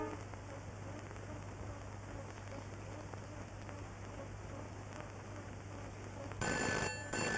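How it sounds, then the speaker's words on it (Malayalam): A telephone starts ringing near the end of a quiet indoor comedy scene, a bright electronic ring cutting in over faint steady background hiss. "Phone phone phone phone."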